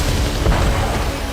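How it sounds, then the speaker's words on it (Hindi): A continuous, heavy booming rumble rolls through from guided bombs striking Ukrainian military positions, deep and loud from start to finish. "विमानों के गुजरते ही एक के बाद एक कई बड़े धमाके हुए और पूरा इलाका धुआं-धुआं हो गया"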